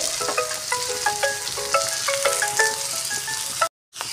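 Chopped onions sizzling in refined oil in a wok, a steady bright frying hiss with faint clinks and stirring, cut off briefly near the end.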